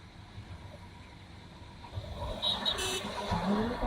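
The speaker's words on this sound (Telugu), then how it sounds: "బస్సు మెల్లగా వస్తుంది." A bus with an apparent problem approaches slowly on a road in Medak, its engine rumble growing from faint to louder over a few seconds, with no talk.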